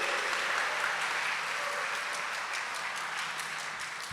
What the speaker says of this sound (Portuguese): Brada uma salva de palmas